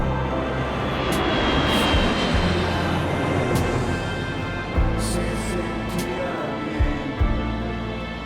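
A small propeller airplane drones loudly and continuously from inside the cabin, a dense steady engine roar with faint thumps underneath.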